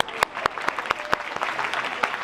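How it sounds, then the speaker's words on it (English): Applause from a temple audience of devotees, a steady patter of many hands with a few sharper claps standing out, moderately loud and sustained throughout. "Give a round of applause."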